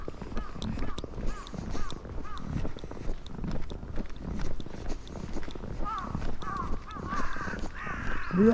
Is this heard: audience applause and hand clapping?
no